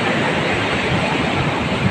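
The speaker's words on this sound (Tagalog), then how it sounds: "Banayan po ang ating alon" Gentle sea waves roll onto the shore, a steady broadband wash of surf with a little wind noise, continuous and without talk.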